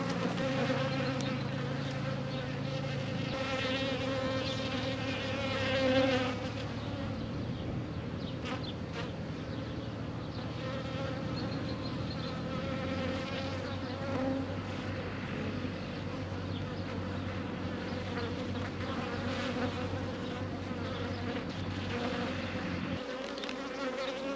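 A swarm of honeybees buzzes densely and continuously at close range, a loud sustained hum with small swells, no voices over it.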